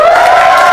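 A crowd at a kids' invention camp claps and cheers, a dense, steady wash of noise that sits close and loud for a short burst.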